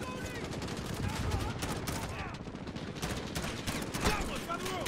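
Dense gunfire rattles through a Modern Warfare campaign firefight, bursts of automatic shots overlapping steadily for the whole stretch with battlefield clatter and voices mixed in.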